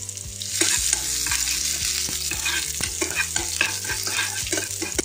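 Chopped shallots and curry leaves sizzle in hot oil with mustard seeds, with a steady loud frying crackle and repeated scraping clinks of a spoon stirring in the pan, no voices.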